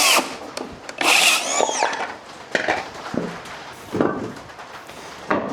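A power drill driving screws into the wood of a DIY raised garden bed, heard as several short whirring bursts separated by pauses, close and moderately loud, without speech.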